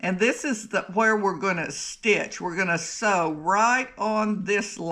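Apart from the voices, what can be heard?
No everyday noises stand out.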